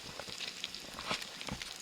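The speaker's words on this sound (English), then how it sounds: "Pork belly sizzling away there" Steady crackling sizzle of pork belly frying in a hot skillet, with scattered pops and spits over a continuous hiss.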